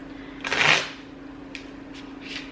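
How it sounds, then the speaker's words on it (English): Deck of playing cards shuffled by hand nearby: one loud riffling burst, then a few lighter flicks and a softer second riffle near the end, over a faint steady hum. "I'll shuffle a few more times just so we know we're being fair"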